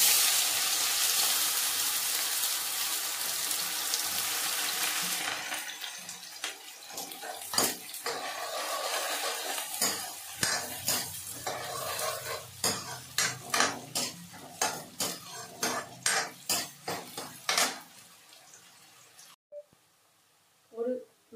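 Chopped onion and garlic hiss and sizzle in a pan while being stirred, and the spatula repeatedly clanks and scrapes against the metal. Someone talks in between, and the clip ends in near silence.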